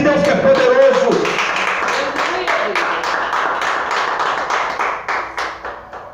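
Congregation clapping during a church service, dense rhythmic claps throughout under a loud voice that speaks at the start, the clapping fading slightly toward the end.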